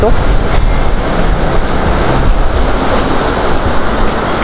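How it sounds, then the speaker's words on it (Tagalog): Large waves crash onto the shore beside a repaired, freshly painted fishing boat, a loud continuous roar of surf with steady broad wash filling the whole stretch. "So ang lalaki ng bagsak ng alon dito"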